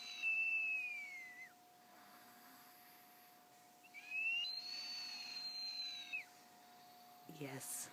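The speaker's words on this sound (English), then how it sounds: "She whistles when she snores." A sleeping girl on a top bunk gives long, thin whistles as she snores, two drawn-out tones separated by a quiet gap. A soft voice speaks briefly near the end.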